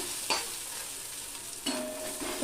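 Onion and garlic paste fries in hot mustard oil in a pan with a steady, close, hissing sizzle, broken by two brief louder bursts as it is stirred, and no voices.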